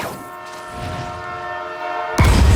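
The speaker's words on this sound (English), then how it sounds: "A train barrels down the tracks toward the scrapyard." Train in Spider-Man 2 barreling down tracks toward a scrapyard with no brakes: a steady, sustained horn-like tone over rumbling rail noise, loud and close, ending in a heavy low-pitched surge.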